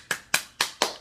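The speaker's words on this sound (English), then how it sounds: "So a big round of applause for Christiane." A single person gives four sharp, evenly spaced hand claps at close range, with nothing else heard.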